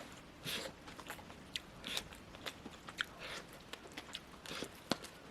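Close, quiet crunchy chewing of convenience store lunchbox food such as pork cutlet and curry, irregular crisp bites and chews repeating over several seconds with no talk.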